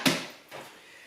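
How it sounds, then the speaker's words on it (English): A wooden chopping board is set down and a baking dish placed on a kitchen counter, giving a sharp knock followed by a softer second clunk, close and brief in a quiet room. "now I'm going to switch my chopping board out for my baking dish"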